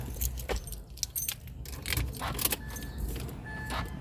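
Keys jangle and turn in the ignition of a long-unused vehicle, producing a few close metallic clinks and rattles over a faint low rumble.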